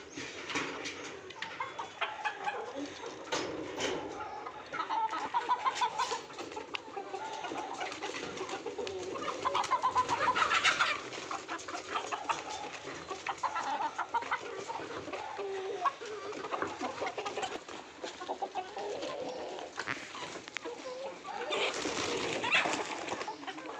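A flock of gavran country chickens clucks and chatters continuously nearby, with other birds calling and occasional louder squawks rising out of the steady backdrop.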